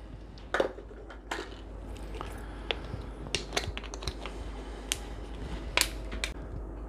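Irregular dry scraping and crunching clicks, scattered and fairly close, over a steady low hum, like a peeler shaving a carrot.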